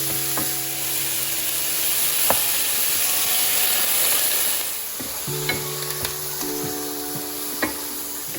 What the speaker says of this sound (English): What I'm doing here is browning off the beef. I've got it on a high heat.